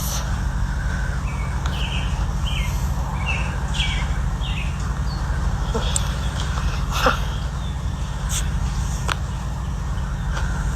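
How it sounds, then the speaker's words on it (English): Scattered bird chirps and short calls ring out over a steady outdoor hum at Pike Lake, Hartford, Wisconsin, moderately close, with no talking. "I love all these birds"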